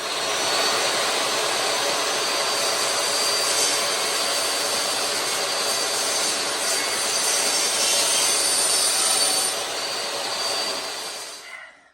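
A compact DEWALT 8-1/4-inch jobsite table saw cutting wood gives a loud, steady high-pitched whine, heard alone for about eleven seconds before the blade winds down at the end.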